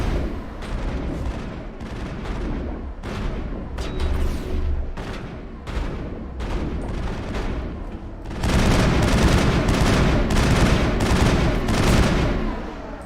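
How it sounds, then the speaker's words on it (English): Gunfire in Mass Effect: rapid, sharp shots in irregular bursts over rumbling background noise, then a louder, sustained stretch of heavy continuous firing and booms toward the end. "What are you shooting at?"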